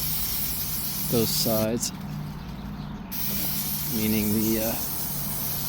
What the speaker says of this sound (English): It does say to spray